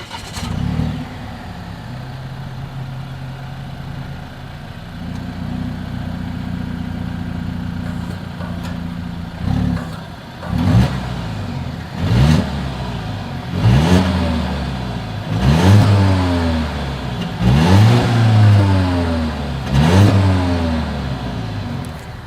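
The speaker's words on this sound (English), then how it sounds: "Here is that exhaust clip." A 2020 Volvo XC90 T6 idles steadily at its exhaust, then gets a series of about six sharp throttle blips, each revving up and falling back to idle, loud and close.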